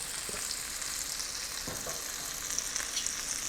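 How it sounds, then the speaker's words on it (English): Steady, continuous sizzling of food frying in a pan, a bright crackling hiss with a few small pops and no talking. "You want that steady sizzle without getting burn hot."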